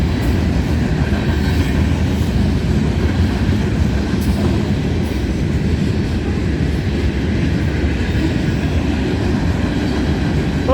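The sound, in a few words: freight train with grain hopper cars passing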